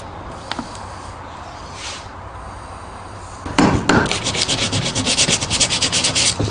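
Old sandpaper rubs over a wooden picture frame still coated in glue, a few faint scrapes giving way to loud, rhythmic back-and-forth sanding strokes that continue steadily to the end.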